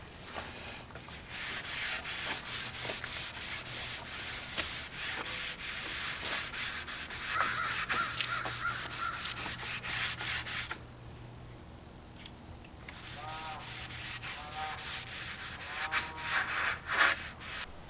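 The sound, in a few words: rubbing finish onto walnut trim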